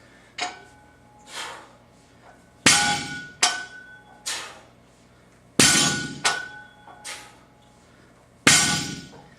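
Heavy barbell weight plates dropped and set down hard onto pulling blocks during deadlift reps, several loud metallic clanks with sharp attacks and ringing decay, spaced irregularly, close and alone without talk.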